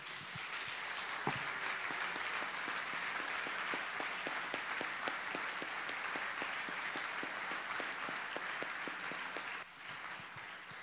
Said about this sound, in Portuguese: Vamos dar mais uma salva de palmas ao Senhor Jesus?